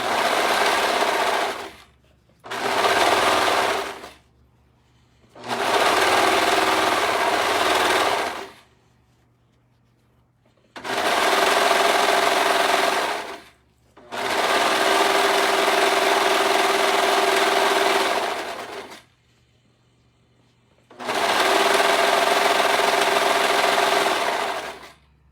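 A sewing machine stitches skirt suspender straps in six loud, close bursts of rapid mechanical running, each lasting a couple of seconds, separated by short quiet pauses.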